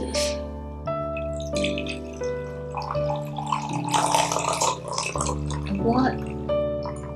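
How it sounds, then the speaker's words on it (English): Water pours into a vessel in a trickling, splashing stream under background music, fairly close and continuous for several seconds. "I'm gonna pour water in here"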